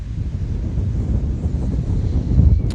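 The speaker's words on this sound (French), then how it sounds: "C'est le vent, j'espère que c'est pas trop chiant pour vous." Strong wind buffets a microphone at the ocean shore, a loud continuous low rumble with gusting swells and no other clear sounds.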